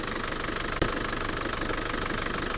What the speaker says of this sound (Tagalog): Talagang ang makina po nito, sira rin talaga.